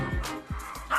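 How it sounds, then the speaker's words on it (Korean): A dog barking fiercely at a visiting family member indoors, with several sharp close barks in quick succession. "같은 친정 식구인데도 앙숙을 만난 듯 맹렬하게 짖으며 노려봅니다"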